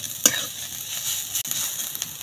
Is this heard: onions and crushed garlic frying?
yes